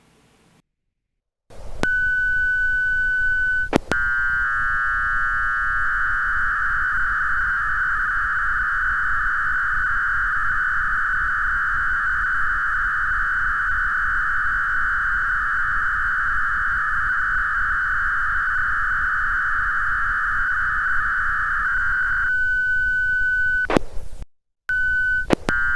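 Fldigi digital radio mode transmission carrying a text message: a steady, loud warbling multi-tone signal runs unbroken for about twenty seconds, with a short single-tone preamble and tail at each end and brief clicks, no speech.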